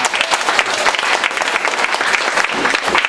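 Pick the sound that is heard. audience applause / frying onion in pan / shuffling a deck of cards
audience applause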